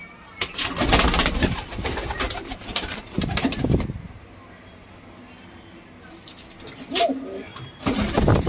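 Punjabi pigeons coo and flutter nearby in a few bursts, with a quieter stretch between them and faint background hiss.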